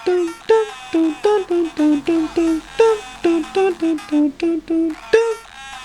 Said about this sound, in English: there's a melody playing up the top.